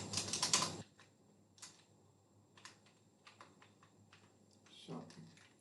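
Keys tapped on a computer keyboard in scattered short bursts of light clicks, close and quiet, with a louder rustle at the start.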